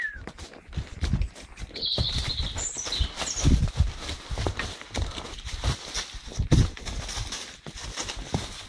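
A horse on a walk clip-clops at a steady, uneven pace close by, hooves striking hard ground with a few birds chirping faintly in the background.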